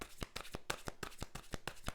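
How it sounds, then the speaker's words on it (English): A deck of tarot cards is shuffled by hand, giving quick, evenly spaced papery slaps and riffles about every tenth of a second, close and alone without speech. "Let's get a couple more shuffles for Capricorn's person."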